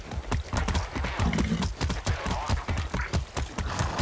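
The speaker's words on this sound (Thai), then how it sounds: "นี่ท่านนี้มีขี่ม้าแล้ว" Horse hooves gallop in the video game Far Cry 6, a fast, rhythmic clip-clop of repeated hoof strikes that is close and loud throughout.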